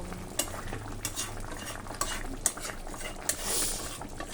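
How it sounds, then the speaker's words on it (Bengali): Meat curry with added hot water bubbling in a pot, a soft continuous simmer broken by a few sharp clinks and scrapes of a spoon stirring against the pot. "আর দেখো এখন মাংসটা ফুটছে।"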